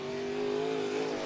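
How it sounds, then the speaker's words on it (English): An IMCA Modified race car roars at speed during qualifying on the dirt track at Cottage Grove Speedway, Oregon, a sustained loud engine whine heard briefly from a distance. "car to hit the racetrack will be car number 24 out of Cottage Grove, the SKS Racing number 24, Curtis Towns."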